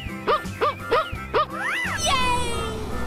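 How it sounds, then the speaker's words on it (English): A cartoonish dog from an animal painting game barks four quick, bright times in a row, followed by a swooping, sliding sound effect. "Dog."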